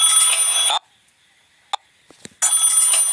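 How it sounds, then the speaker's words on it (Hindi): A telephone rings in a story podcast with two loud, shrill electronic ringing bursts separated by a quiet gap. Faint clicks sound in the pause. "मेरा फोन बजा"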